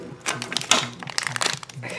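A plastic mail bag holding a collectible toy figure crinkles and rustles up close in a quick, uneven burst of crackles, with no talk over it.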